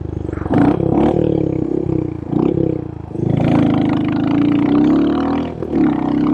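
A loud custom RE 350 motorcycle engine revs and rumbles in repeated surges, a throaty roar rising and falling several times, close by with no talking.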